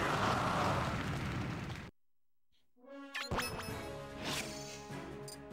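A grenade blast in Super Smash Bros. Brawl: a loud roaring burst cuts to sudden silence, then a ringing crash with metallic, chiming debris tones trailing off.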